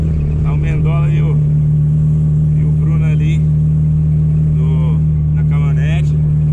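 A car engine, driven home after an accident and thought to be failing, hums with a steady low drone from inside the cabin while people talk over it.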